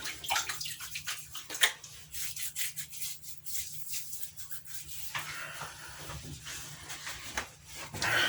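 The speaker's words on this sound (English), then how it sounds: "let's wet the face one more time" Water splashes and rubs against skin as a face is wetted at a bathroom sink before a straight razor shave, with irregular close splashing bursts and a steady low hum beneath.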